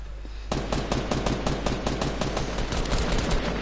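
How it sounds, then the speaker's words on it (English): Rapid automatic gunfire in the video game Fortnite, loud and close, hammering in a fast, steady stream of shots after a brief quieter moment at the start. "Actually, I go shoot."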